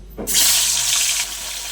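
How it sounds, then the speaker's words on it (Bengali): Singhi fish slide into hot oil with a sudden loud hiss that bursts in, holds strong, then eases to a steadier, quieter sizzle near the end. "এখানে আমার তেলটা গরম হয়ে গেছে, এবার আমি মাছগুলো একে একে দিয়ে দেব।"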